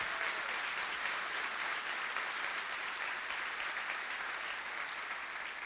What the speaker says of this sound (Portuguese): E se você crê, levante mais forte esse aplauso ao Senhor.